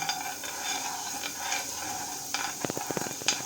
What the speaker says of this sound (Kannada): ರವೆ ಹಾಕ್ಕೊಂಡು ಫ್ರೈ ಮಾಡ್ಕೊಳ್ಳೋಣ